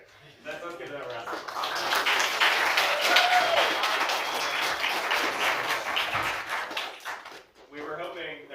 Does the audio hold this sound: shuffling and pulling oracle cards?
no